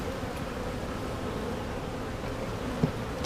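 Swarm of honeybees buzzing at an opened beehive during a hive inspection, a continuous dense hum close by with a few faint knocks near the end.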